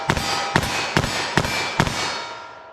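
Five sharp .357 Magnum gunshots from Fiocchi CovertX rounds, fired in a quick, even string about half a second apart, each a loud crack with a brief ringing tail that fades after the last shot.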